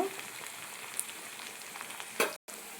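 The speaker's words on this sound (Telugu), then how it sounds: "ఇప్పుడైతే కొంచెం కరివేపాకు అయితే వేసుకోవాలండి వేసుకుని ఇలా వేయించుకోవాలి" Curry leaves frying in hot oil for a stuffed brinjal fry, giving a steady close sizzle throughout with a brief spatter burst near the end before a short cut to silence.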